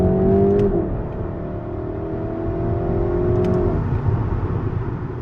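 A 2024 Volkswagen Golf GTE MK 8.5 plug-in hybrid accelerates from inside the cabin, a steady low road and engine drone with a rising whine that shifts pitch partway through, loud and continuous.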